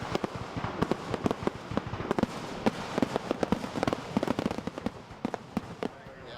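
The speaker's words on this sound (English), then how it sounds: "the masters of the darkness filled the night sky with a glorious display of fireworks" Fireworks burst over a river valley at night in a rapid, irregular barrage of sharp cracks and booms, dense and continuous for the whole stretch, with faint crowd voices beneath.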